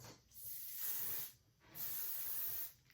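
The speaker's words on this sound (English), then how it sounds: "I'm just going to use the Oribe Superfine hairspray. Give it an all over mist." Oribe Superfine hairspray hisses out in two long bursts over hair, each spray about a second long with a short pause between, close and fairly soft, with no talk.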